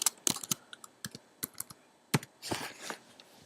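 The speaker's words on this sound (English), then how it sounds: "I'm going to go ahead and type my name one time" A name being typed on a computer keyboard into a blank word-processing document: quiet, irregular key clicks in short bursts with small pauses, ending in a quick flurry of taps.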